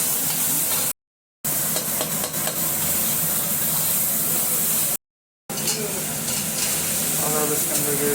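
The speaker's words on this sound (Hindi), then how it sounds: "और अब करेंगे इसे अच्छे से मिक्स" A spoon stirs green chili, black pepper and rock salt in a hot pan for fasting-day potatoes, a continuous hissing sizzle with scraping strokes, broken by two short silent gaps.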